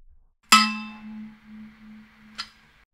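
A glass bottle struck once, ringing out with a clear sustained tone that fades, then a second lighter tap near the end.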